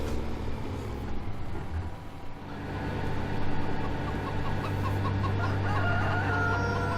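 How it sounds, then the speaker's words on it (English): Chickens cluck and a rooster crows repeatedly in the Farming Simulator 2015 farming game, a busy flock close by with a steady low engine-like hum running underneath. "Lots of chickens."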